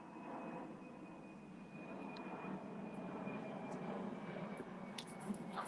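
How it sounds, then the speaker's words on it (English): Airplane flying over near an airport, a steady low roar of engines that slowly builds over several seconds as the aircraft passes, heard at a distance with no talking. "I live not too far from the airport, so we got planes that come in."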